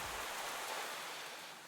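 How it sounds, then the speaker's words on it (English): Steady rain in the video game Fall of Porcupine, a continuous broadband hiss with no distinct drops, holding at an even moderate level throughout with no talk. "at least it's raining"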